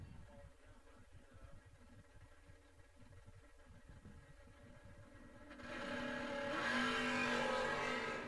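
A Dodge Dakota drag racing truck launches with a wheelie at a drag strip event. Engine noise stays faint and distant at first, then swells into a louder roar over the last few seconds.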